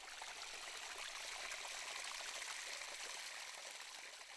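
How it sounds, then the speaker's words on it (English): Water from Baishui Terrace runs down the mountainside into a small valley, making a steady, even rushing hiss that continues without a break and stays fairly soft throughout. "Water from Baishui Terrace flows down the mountain to the bottom"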